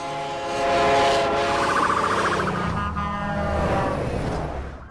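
A passing train sounds a steady horn with stacked harmonic tones that shift downward in pitch as it goes by, over a broad rumbling rush of wheels and carriages that stays loud throughout.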